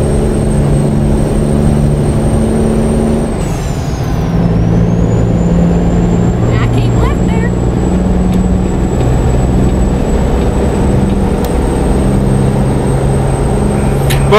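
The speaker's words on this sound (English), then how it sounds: "Definitely a nice sounding truck here." A truck engine running steadily at idle, a loud continuous rumble with a high whine, with a brief hiss and some rattling partway through.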